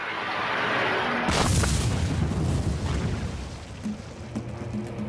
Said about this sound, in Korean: 이것이 감마선 폭발이다.